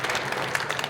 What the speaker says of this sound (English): Okay, yeah, you can clap it up.